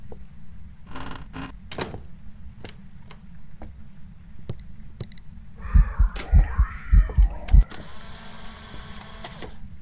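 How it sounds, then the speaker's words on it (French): Footsteps knock in a scattered rhythm, a creaking door groans with a run of heavy thuds, and a hiss like a tap running follows, all in the eerie soundscape of the ghost-hunting video game Phasmophobia. "d'un coup on entend des bruits de pas dans l'escalier, un robinet s'ouvrir à l'étage ou encore une porte grincer"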